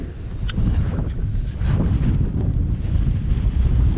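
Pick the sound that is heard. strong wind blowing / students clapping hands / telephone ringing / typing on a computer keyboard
strong wind blowing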